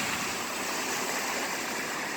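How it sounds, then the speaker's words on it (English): The flooded Oconaluftee River at Cherokee, North Carolina, rushing past as a dense, steady roar of turbulent water, loud and unbroken with no voices. "This is the Okanalefty River."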